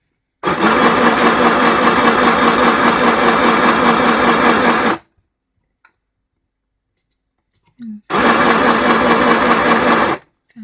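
Hema sewing machine stitching fabric: a close, loud, rapid mechanical whir with steady needle ticking, running about four and a half seconds, stopping, then starting again for a couple of seconds.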